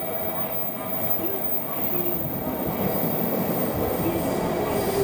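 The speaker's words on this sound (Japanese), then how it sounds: "番乗り場に普通列車下関行きの到着です。" A JR Kyushu class 415 local passenger train rolls steadily into a station on the Kagoshima Main Line with a constant rumble and faint wheel noise. A recorded Japanese platform announcement runs over it.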